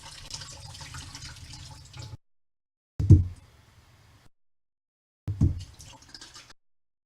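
Tap water runs over canned food in a kitchen sink in three separate bursts, each starting with a splash and then a steady, hollow stream before cutting off.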